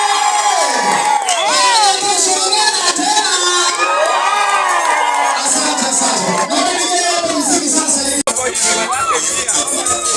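Wedding guests in a church raise continuous high ululation and cheering as a bride enters, a dense, loud crowd of trilling voices with shouts layered over one another throughout.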